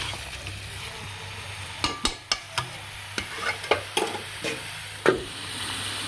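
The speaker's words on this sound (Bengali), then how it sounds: "ঢাকাটা খুলে আবারও একটু চিকেনটা নেড়ে দেবো।" Chicken curry stirred in a pan after the lid is lifted: a low steady sizzle broken by a string of sharp spoon knocks and scrapes against the pan, close and crisp, with no speech.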